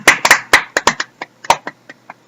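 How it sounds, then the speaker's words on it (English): A small group claps in short, uneven bursts for a child at what sounds like a casual home gathering, the clapping loud and close at first and then thinning into scattered single claps. "Give Garrett a round of applause."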